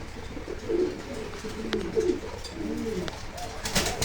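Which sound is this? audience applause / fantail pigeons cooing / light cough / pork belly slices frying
fantail pigeons cooing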